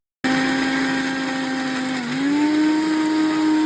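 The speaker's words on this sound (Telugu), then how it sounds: "ఒక జార్లోకి తీసుకుని తగినంత సాల్ట్ అలాగే మీకు నచ్చినట్టయితే 2-3 వెల్లుల్లి రబ్బలు కూడా వేసుకుని మిక్సీ పెట్టేసుకోండి" A mixer grinder jar blitzing dried prawns with salt and garlic, starting abruptly into a loud, steady high-pitched motor whine that dips briefly in pitch midway before recovering, close up and uninterrupted.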